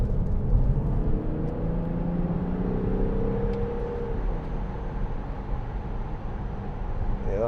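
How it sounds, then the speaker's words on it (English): Audi Q7 6.0 TDI V12 Tiptronic diesel SUV from 2010 accelerating uphill, heard from inside the cabin as a deep engine drone whose pitch climbs through the gears over a steady road rumble. "let's just give it some gas going up here if the road's clear"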